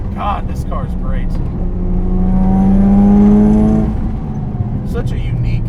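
A modified 400+ horsepower FD Mazda RX7 with a rotary engine revs up and falls back in one long, smooth sweep, loud and close, with a voice talking over it.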